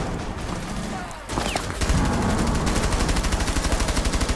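Rapid automatic gunfire in the Rainbow Six Siege video game, with sustained bursts of evenly spaced shots that grow louder and denser in the second half of a team deathmatch round.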